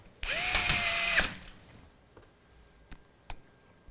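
A power driver runs a screw into a Phanteks Enthoo PC case in one loud, whining burst of about a second, followed by a few faint clicks and taps of handling.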